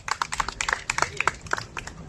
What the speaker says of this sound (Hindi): तालियां बजाओ इस आंसर के लिए।